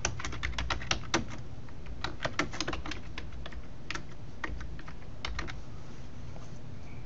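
Fingers typing a project name on a computer keyboard, crisp key clicks in quick irregular bursts with short pauses, close and clear against a quiet room.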